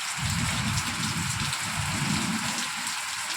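Steady rain falls on a surface nearby, a continuous dense patter with low drumming, no voices.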